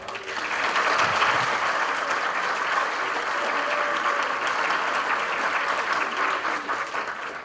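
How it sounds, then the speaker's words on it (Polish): A cabaret audience in Wyszków applauds loudly and steadily, a thick continuous wave of clapping that swells quickly at the start and holds for several seconds. "bardzo serdecznie dziękuję za te brawa"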